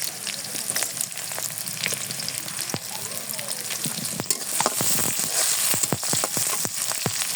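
Onions sizzle and crackle steadily in hot oil with radhuni spice, with sharp spattering pops and the scrape of stirring rising toward the end.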